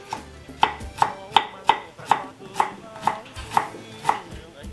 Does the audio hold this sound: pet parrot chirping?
no